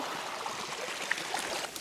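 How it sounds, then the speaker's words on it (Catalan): Shallow river stream crossed on a gravel bike in the Montsec countryside, a faint, steady trickle and gurgle of flowing water with a few soft splashes. "He de travessar un riu."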